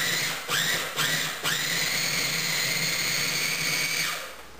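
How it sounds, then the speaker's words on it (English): A food processor blending smoked salmon with cubed room-temperature cream cheese, a loud high whirring motor pulsing in two quick bursts before running steadily for a few seconds and then spinning down. "just mix it for just a couple seconds in a food processor"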